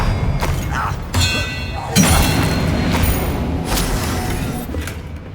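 Bombarda spells go off in Hogwarts Legacy as a run of heavy booming blasts, about four close, loud bursts each with a crashing, debris-like tail over constant battle noise.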